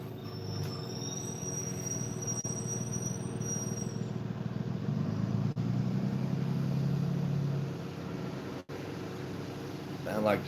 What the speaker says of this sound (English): Sound like the school bus need new brakes.